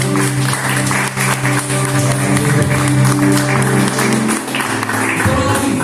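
A church congregation applauds in dense, sustained clapping over steady music, with only faint traces of voices.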